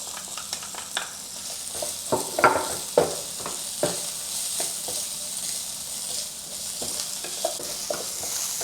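Chopped garlic and scallion sections sizzle in a stir-fry pan for a ginger garlic shrimp dish, a soft continuous hiss close by with scattered scrapes and taps of stirring, some louder clatter in the middle, and no voices.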